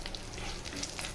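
Cumin seeds, a dried red chilli and a bay leaf sizzle and crackle steadily in hot mustard oil in a home kitchen pan, a close, continuous frying hiss with small pops and no talking.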